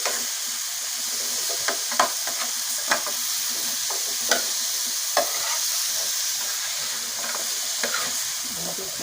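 Vegetables frying in a pan for chicken turli are stirred with a utensil: a steady, close sizzle with about ten sharp scraping clicks scattered through it. No one speaks.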